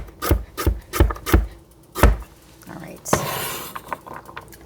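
Carrots being chopped with a knife on a wooden board in a home kitchen, about six sharp rhythmic knife strikes close up, followed by a scraping rub and a few softer taps.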